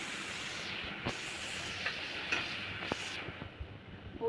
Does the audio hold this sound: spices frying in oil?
yes